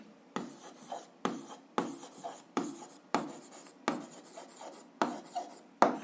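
Pen writing out a proof statement for a seventh-grade algebra exercise, heard as a series of about eight close, scratchy strokes in an even rhythm, with no voice over them.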